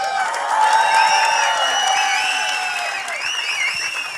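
An audience at a Bollywood film trailer launch for Yamla Pagla Deewana Phir Se claps and cheers in a dense, sustained burst of applause, with scattered whoops through the crowd.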